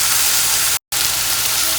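Onion, green chilli and curry leaves frying in oil for tomato rice, a steady broadband sizzle broken by a short silent gap, close and fairly loud with no talk.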